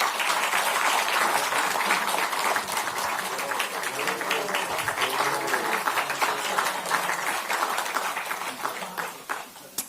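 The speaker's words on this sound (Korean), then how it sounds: "박수 한번 부탁드립니다" Applause from attendees at a Democratic Party lawmakers' caucus meeting, a dense, steady clapping that fills the room for the full stretch and thins slightly toward the end.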